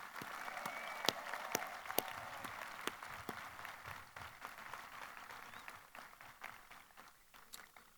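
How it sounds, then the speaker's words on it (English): An audience at a graduation ceremony applauds JROTC cadets, a continuous wash of clapping with a few sharp individual claps standing out, heard from a distance and fading gradually toward the end. "let's give them a round of applause"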